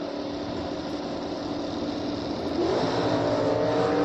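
Bracket drag race cars run down the racetrack, a continuous engine roar that swells louder and rises in pitch partway through as a car accelerates past, with no voices.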